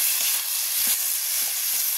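Masala with ground cashew and poppy seed paste sizzles steadily in hot oil, a dense, close hiss with faint stirring scrapes underneath.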